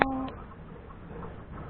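A chicken gives a short cluck up close, followed by low background noise.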